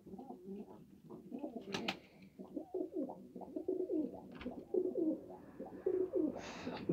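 Balkafa pigeons coo steadily in a loft, a run of soft, throaty rolling calls repeating close by, with a few sharper wing or foot noises mixed in.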